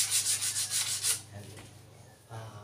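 Sandpaper is rubbed over a wooden door in quick back-and-forth strokes, making a close, rhythmic scratchy hiss, then the strokes slow and soften with a short final pass.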